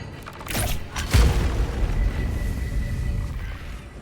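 A deep, rumbling explosion booms in Baldur's Gate 3, with an initial thud followed by a rolling low roar that lingers and slowly fades.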